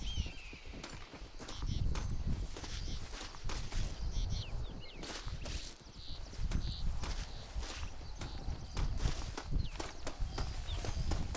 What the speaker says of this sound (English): Aquilo lá é cavalo selvagem.